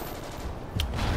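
Remington R5 rifle fire in Call of Duty: Ghosts, a brief game gunfire burst with a sharp crack near the middle, over a steady layer of game noise.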